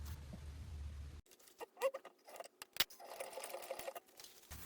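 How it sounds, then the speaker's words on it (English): A sewing machine stitches through several thick layers of a laptop bag in close, uneven bursts of needle chatter and short whirring runs, with brief pauses between. "we're going to sew through all of the layers. Let's do that now"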